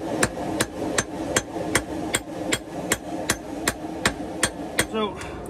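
Hammer blows forge-welding an axe made from railroad scrap, about fifteen sharp ringing strikes in a steady rhythm, close and loud, with a short metallic ring near the end.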